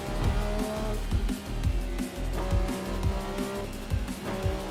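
A racecar's engine drones loudly at close range through the Porsche curves, with rhythmic pulsing tones and tire noise running steadily under the engine.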